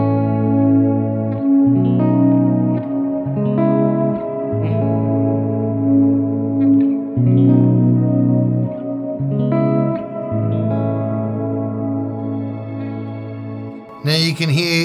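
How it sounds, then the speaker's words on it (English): Electric guitar chords played through a Boss RV-6 reverb pedal in shimmer mode, sustained notes ringing into a soft shimmering pad, steady and close, with a brief sharp noise at the very end. "I use shimmer reverb to just sort of get a little bit of pad going under."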